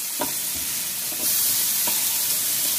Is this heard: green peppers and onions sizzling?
yes